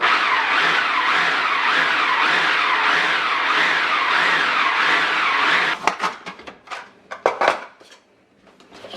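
A food processor pulses murtani ingredients, a steady whirring blade for several seconds, then stops and gives way to short irregular bursts and clatter, close and fairly loud.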